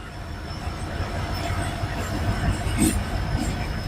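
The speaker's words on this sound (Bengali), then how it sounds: "এতটা ক্লোজ ভিউ থেকে আপনারা দেখতে পাচ্ছেন সাঁতরাগাড়ি থেকে একটা ট্রেনের আমতা লোকাল ডিপার্চার হয়ে যাচ্ছে" A local passenger train departing Santragachi station, bound for Amta, rumbles steadily nearby with faint metallic clicks and a thin high whine from the rails, continuous and moderately loud.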